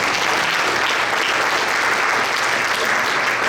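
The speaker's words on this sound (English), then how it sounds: "give the Lord a great clap offering" A church congregation claps together in a sustained, even burst of applause that holds at full strength throughout.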